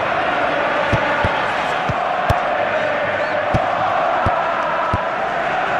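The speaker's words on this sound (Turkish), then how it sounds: "Taraftarlar oyunculara tezahüratlarıyla destek oluyor." Football fans in a stadium keep up a steady roar of chanting and cheering for their players, punctuated by rhythmic drum beats or claps, with a commentator speaking over the crowd.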